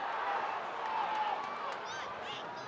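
A steady murmur from the stadium crowd at a San Antonio FC versus Rio Grande Valley FC soccer match, with scattered shouts and whistles rising over the general noise while a commentator talks over it.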